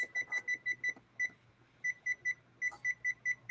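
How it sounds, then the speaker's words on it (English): A kitchen timer beeps in short, evenly spaced electronic bursts as it is set for 60 minutes while bread waits to bake, clear and close with brief pauses between runs of beeps in a quiet room. "Now I'm going to set my timer for 60 minutes."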